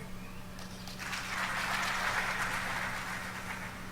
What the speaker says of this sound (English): It doesn't sound right with so few people able to clap